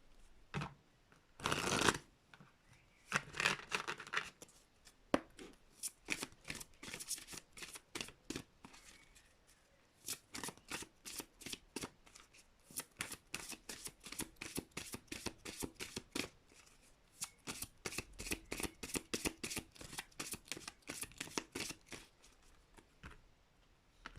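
Tarot cards being shuffled by hand for about twenty seconds, rapid riffles and soft flicking patter that come in bursts and long runs, close and fairly quiet, with no speech.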